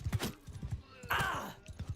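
Horse hooves pound in a fast, irregular gallop in the Bannerlord game, with a whinny-like burst midway, all close and fairly loud.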